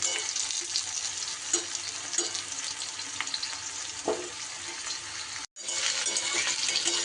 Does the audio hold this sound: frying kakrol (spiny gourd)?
yes